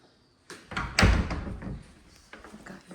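Closet doors in a new modern farmhouse opening, giving a few close wooden thumps and sliding knocks, the loudest near the start, then quieter clicks, with no talking.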